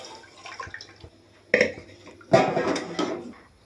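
A pressure cooker pot is rinsed and half a glass of water is poured in for Marathi fodnicha varan, heard as close clinks of a metal vessel with splashing water in two loud bursts after quieter handling noises.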